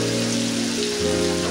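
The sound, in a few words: spices frying in a pan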